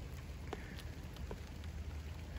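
Steady rain pattering on a surface with scattered drips and a constant low hiss, no talking.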